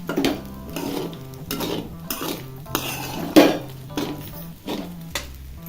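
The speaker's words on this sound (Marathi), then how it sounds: "शेंगदाण्याचा पूड घालायचा आहे आणि बारीक गॅसवर परतून घ्यायचे" A utensil repeatedly scrapes and knocks against a pan as sabudana misal with peanut powder is stirred and roasted over low heat, in an uneven rhythm of close clinks and scrapes with no talking.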